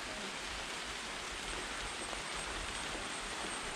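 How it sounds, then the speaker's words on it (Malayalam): Steady rain falls on a farm, a soft, even hiss with no gaps, faint and fairly distant, and no voices. "മഴ പെയ്യാണ്, മഴ"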